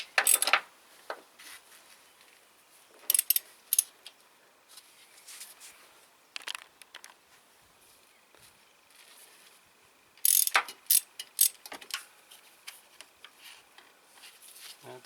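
A ratchet wrench loosens the timing belt tensioner on a 2005 Hyundai Accent, with bursts of rapid clicking pawl ratcheting separated by quiet pauses and small metallic handling sounds, close up.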